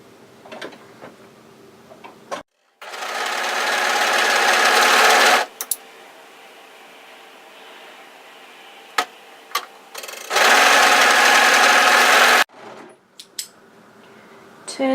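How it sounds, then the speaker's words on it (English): An overlocker stitches together the short ends of a hoodie's folded front band in two loud, steady bursts of rapid whirring, separated and followed by quiet clicks and fabric handling. "what we're going to do is overlock these short ends together"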